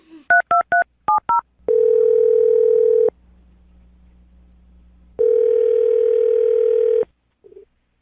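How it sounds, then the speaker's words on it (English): A telephone being dialed: a quick string of about eight keypad tones, then a steady dial or ringback tone for over a second, a quiet gap, another long tone, and a faint blip at the end, with no talking. "I'm going to dial the phone number right now, see if we can get her on the phone"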